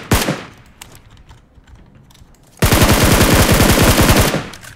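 Gunfire in the mobile game PUBG Mobile: a few scattered shots at first, then a loud, sustained rapid automatic burst of evenly spaced reports lasting nearly two seconds, close and dominant.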